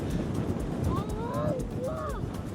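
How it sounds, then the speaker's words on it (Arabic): Wind buffeting a microphone near water on a trip to Merzouga, a constant low rumbling roar with gusty texture, while people talk over it. "المشكل هو الريح."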